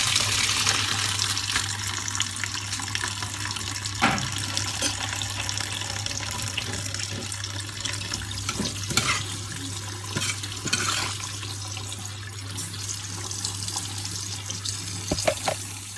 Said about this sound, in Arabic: لازم ببقى فاتحه الميه ميه ساقعه كده